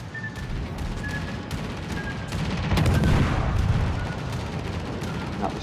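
Warship guns firing shells in World of Warships: Legends, a rolling barrage of distant booms and shots that swells in the middle and stays loud and dense throughout, with no talking.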